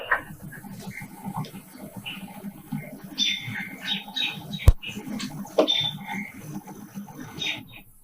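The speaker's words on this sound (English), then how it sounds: "Hear the birds." Birds chirp and squawk outdoors in short, scattered calls at moderate distance, with a sharp click midway and a faint background hiss, no clear talking.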